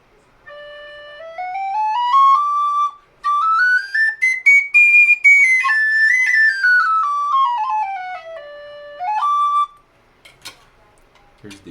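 A Tony Dixon plastic whistle plays a clear melodic tune of rising and falling notes with a few brief pauses, loud and close, ending with soft handling clicks.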